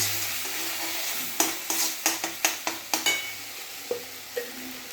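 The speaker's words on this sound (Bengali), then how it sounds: "মশলাটাকে ভালো করে কষিয়ে নিচ্ছি" Spice paste with garlic paste and chopped tomato fries in a pan, a steady sizzle under a series of sharp scraping stirs and clacks of the spoon against the pan, close and with no talking.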